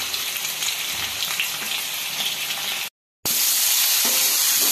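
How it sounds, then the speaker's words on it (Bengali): Potatoes fry in a pan for a Bengali dish, a steady bright sizzle with faint stirring, briefly cut to silence before the loud frying resumes. "আর এই যে এখানে আলু ভাজা হচ্ছে"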